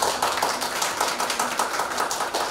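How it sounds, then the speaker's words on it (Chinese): Steady audience applause from a crowd at a children's charity event, dense continuous clapping without pause, no voices heard. "来，我们掌声欢迎欧月会长。"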